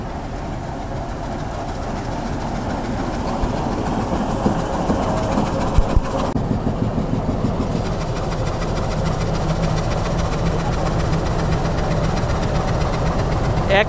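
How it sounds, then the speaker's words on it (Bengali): A local train pulls into Tista Junction station with a loud, continuous low rumble and rattling wheels on the rails, steady throughout and close by. "তিস্তা জংশনে একটি ট্রেন আসলো, লোকাল ট্রেন।"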